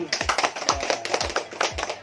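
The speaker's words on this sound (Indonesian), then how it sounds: "Iya, tepuk tangan." A small class of students claps in quick, uneven bursts, light and close, a short round of applause.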